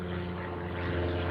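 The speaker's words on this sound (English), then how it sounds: "Every time I come out, there's a low level plane flying." A steady propeller drone from a small plane passing low overhead, loud and continuous, swelling slightly toward the end, no talking.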